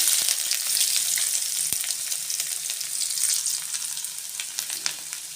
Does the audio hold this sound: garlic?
yes